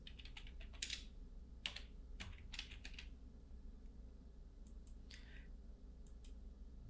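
Quiet keystrokes tap on a computer keyboard in short irregular bursts, several quick clicks clustered together and then pausing, close up over a low steady hum with no voices.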